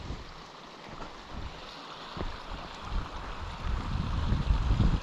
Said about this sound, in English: I love to hear the sound of water